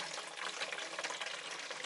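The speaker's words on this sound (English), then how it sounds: "let's transfer that litre, hopefully not spilling any" A steady stream of AdBlue pours from a jug into a Peugeot's filler, a close, continuous gushing splash with no voices.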